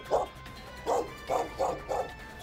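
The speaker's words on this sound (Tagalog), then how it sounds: "siya naman pag-iingay ng mga aso na tila ba nanghihingi ng tulong" Several dogs kept in a compound in Paniki, Tarlac, bark and yelp in five short, sharp bursts, fairly close and loud, with distressed yipping between them.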